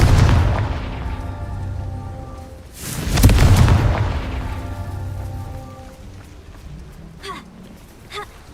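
A Confringo fire spell in Hogwarts Legacy explodes with one loud, deep blast that rolls off slowly, followed by a couple of lighter impact thuds.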